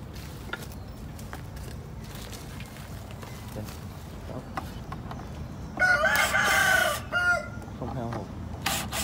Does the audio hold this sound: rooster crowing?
yes